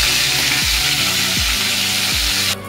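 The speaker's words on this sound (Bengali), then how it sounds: "মাছগুলোকে আমি এক এক করে কড়াইতে ছেড়ে দিলাম। বেশি ভাজবো না, এই 1 মিনিট করে এদিক ওদিক করে ভেজে।" Pomfret fish frying in hot oil in a wok, a loud continuous sizzle with a few brief scraping strokes of stirring, close up and with no talking.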